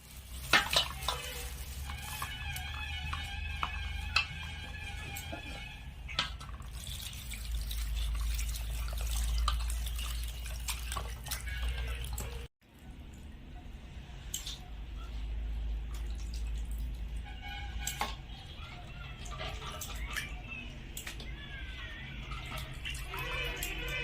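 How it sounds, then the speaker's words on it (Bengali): Fresh young goat meat being washed by hand in water, with steady splashing, dripping and stirring sounds that carry on at close range, broken by a brief silence halfway through. "এখন মাংস ভালো করে ধুয়ে নেব।"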